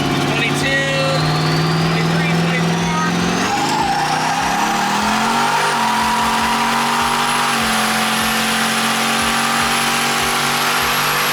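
Twin-turbo LS-swapped Fox-body car accelerating hard with wheelspin, a loud engine roar climbing in pitch through a gear change, plus high turbo whine and tire noise, close and continuous.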